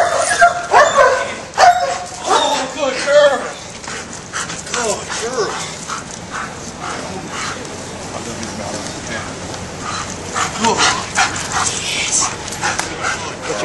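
A military working dog in Afghanistan barks, yips and whimpers close by in short bursts, with people talking around it.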